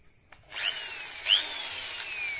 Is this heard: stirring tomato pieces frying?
no